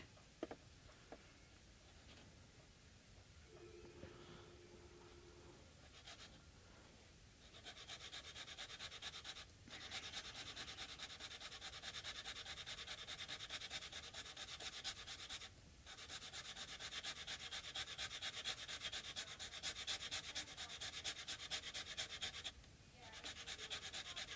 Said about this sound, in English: means I need to do a little more sanding.